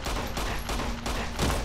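Rapid gunshots from the video game Fallout New Vegas, a quick run of sharp cracks in close succession, loud and near, with no speech over them.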